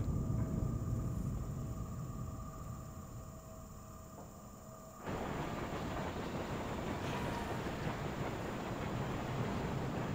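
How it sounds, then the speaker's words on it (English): A tram arrives in World of Warcraft, a faint low rumble that suddenly swells into a steady, louder rolling rail noise halfway through and keeps going. "Our tram has arrived."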